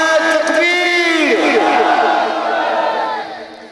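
A crowd at an urs gathering calls out the takbir response in unison, a loud sustained chorus of voices that swells and then fades over a few seconds.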